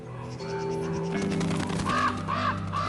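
Ravens at a bison carcass give several harsh caws, a couple of single calls followed by a quick series of three, close and loud over a low background hum.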